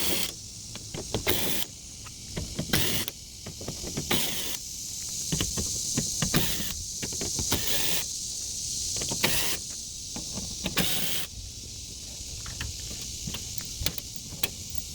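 A power driver whirs in repeated short bursts as eight T25 Torx screws come out of a 2020 Ford F250 Super Duty tailgate, with each bursts of high buzzing separated by brief pauses and clicks.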